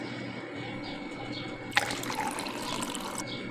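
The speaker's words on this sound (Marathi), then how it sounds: "ते 2 बाउल आपल्याला थंड पाणी यामध्ये मिक्स करायचं आहे।" A bowl of cold water is poured into curd for boondi raita, a sudden close splash followed by about a second and a half of gurgling pour that then stops, over faint room hum.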